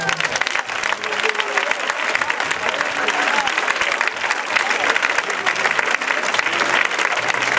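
An audience claps hands together in a church, producing dense, sustained applause that stays loud and steady throughout without a break.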